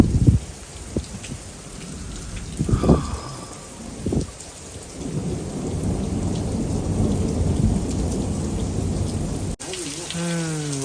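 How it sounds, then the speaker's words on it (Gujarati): Heavy rain pours steadily on a farm at night, with deep rumbling thunder rolling in several times early on, then a dense continuous downpour roar; brief faint voice sounds near the end. "વરસાદ ચાલુ થઈ ગઈ ભાઈ"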